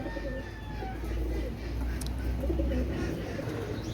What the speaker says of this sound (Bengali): এটা হচ্ছে গলায়লাল কবুতার